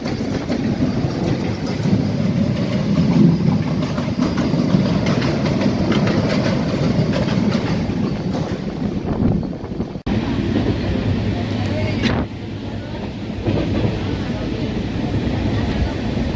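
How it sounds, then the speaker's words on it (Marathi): A Mumbai AC local train rumbles past at close range in monsoon rain, a loud, sustained roar of wheels and carriages with a sharp break partway through, heard under someone talking. "या ठिकाणी AC लोकल क्रॉसिंग होत आहे"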